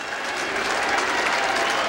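A large stadium crowd of more than 12,000 applauds after a 1989 Syracuse versus UMass lacrosse game, producing a dense, continuous roar of clapping and cheering that holds steady throughout.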